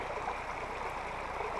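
Water flowing in a major mountain river tributary, a steady close rushing burble with no voices.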